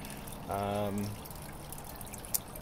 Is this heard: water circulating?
yes